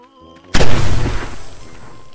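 A grenade detonates in the zombie-shooting VR game Arizona Sunshine: after a quiet moment with a faint musical tone, one sudden loud blast erupts and rumbles away over the next second and a half.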